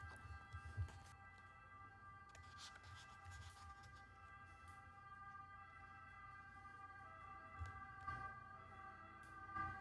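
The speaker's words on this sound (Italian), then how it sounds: "E aspettiamo che va via l'ambulanza." A wailing ambulance siren drifts past at moderate distance, rising and fading over a low rumble of traffic, with no voices.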